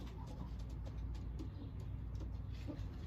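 A 2019 racing pigeon, back from a 643 km race, gives faint, soft cooing over a steady low hum in its loft, with no talk.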